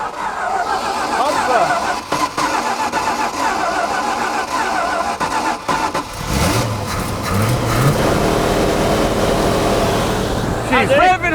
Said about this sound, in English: Just gonna rev her bollocks off.